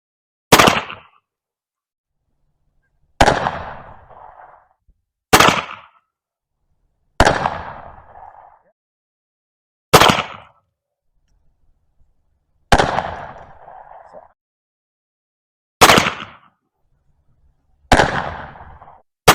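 Uberti M1862 Colt Pocket Navy percussion revolver firing eight sharp, loud shots spaced a couple of seconds apart, each crack ringing briefly before silence.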